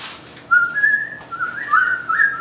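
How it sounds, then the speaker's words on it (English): A person whistles a light, wavering tune in a kitchen, clear and close, starting after a brief quiet moment and continuing in short melodic phrases. "whistle while we work."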